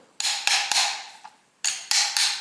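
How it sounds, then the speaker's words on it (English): A wooden hammer handle taps against a stuck metal slide plate on a Singer 66 sewing machine, giving sharp, ringing knocks close by: three quick strikes, a faint one, then three more after a pause, with no talking. "just put my little wooden hammer handle in there and see if I can tap it out"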